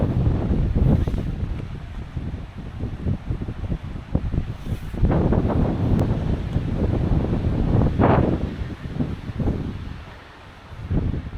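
Strong coastal wind buffets the microphone beside the sea in gusting, uneven surges, with breaking surf rumbling underneath and a brief lull near the end; no one speaks.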